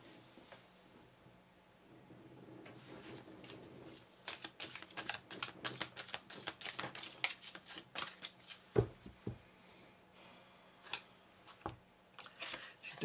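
Tarot cards being shuffled for a romantic card reading, a long run of quick riffling flicks and soft slaps that builds up and then scatters into separate taps, close to the microphone, with a voice speaking quietly at times.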